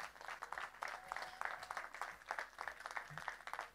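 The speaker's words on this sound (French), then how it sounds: "Un tonnerre d'applaudissements aussi pour Samuel qui a géré la partie animation." Audience applause at the Relais pour la Vie Rixensart 2025 charity event, honoring Samuel for running the entertainment; a soft, steady patter of many hands clapping, fairly distant and faint, continuing unbroken throughout.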